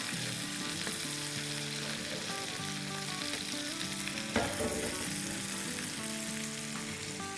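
Qureshi kababs fry in a pan with a steady, close sizzle running throughout, a soft clatter of turning near the middle, and no voices over the cooking.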